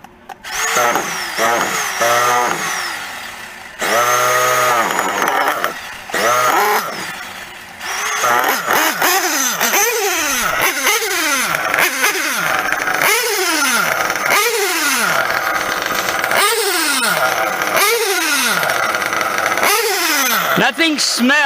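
A modified REDS 723 nitro engine fires up and revs hard in repeated high-pitched rising and falling bursts with short pauses, loud and close, with a few brief starter whirs early on.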